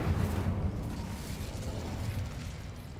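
The Incendio fire spell is cast in the video game Hogwarts Legacy, giving a steady low roaring whoosh of flame that lasts about three seconds and slowly fades, with no voices over it.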